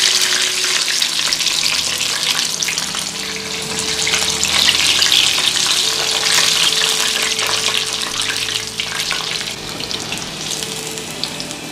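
Chicken pieces fry in hot oil for orange chicken, a loud, steady, close sizzle and crackle throughout with faint stirring clatter.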